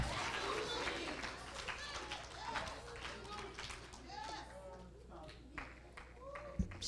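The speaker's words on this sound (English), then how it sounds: "Come on, just give me a big hand clap." Church congregation clapping hands throughout, a steady mass of applause over a constant low hum, with a preacher's voice and crowd voices mixed in.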